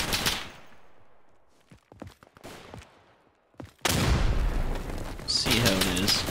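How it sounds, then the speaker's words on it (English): In a World War I shooter game, a grenade bursts with a sudden loud blast that gives way to sustained roaring noise and gunfire, after a quieter stretch of scattered shots and voices talking. "Slinging a grenade!"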